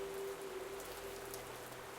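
Steady rain falls in a VRChat game world, a soft continuous hiss of drops on surfaces with a faint constant tone beneath, quiet and unbroken with no voices.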